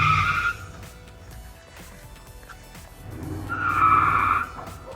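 A rental Ford car drives past outdoors, its tyres hissing loudly as it approaches, fading in the middle and swelling again before dying away, with no talk over it.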